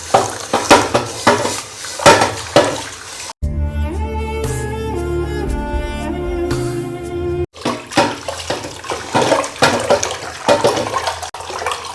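Rice being washed by hand in water in a home kitchen: repeated swishing, splashing and light clattering of grains against a pot, broken by a steady stretch of running water in the middle.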